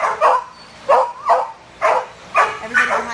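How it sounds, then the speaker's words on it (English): Labrador cross puppies about eight weeks old yip and bark at an animal shelter, six short bursts at a steady pace, close and fairly loud, with people chatting in the background. "These are some lab cross puppies."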